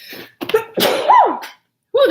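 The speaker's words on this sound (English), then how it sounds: "that brass stuff makes me sneeze" A woman sneezes sharply from brass dust, a close, loud burst with a voiced cry, followed after a short pause by another vocal exclamation.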